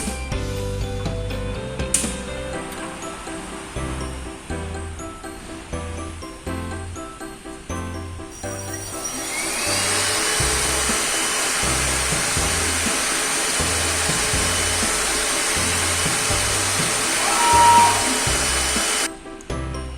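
A 5035 Pro S servo flatbed cutting machine powers on with mechanical clicks and ratcheting, then settles into a loud, steady whir of fans and motors that runs on close and alone.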